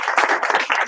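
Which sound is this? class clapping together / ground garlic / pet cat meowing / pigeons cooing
class clapping together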